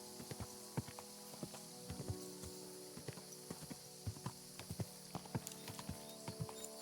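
Steady clip-clop of horse hooves at a walking pace in the video game Kingdom Come: Deliverance II, a continuous run of sharp, evenly spaced thuds over a soft background hum.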